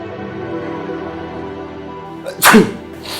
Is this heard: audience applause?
no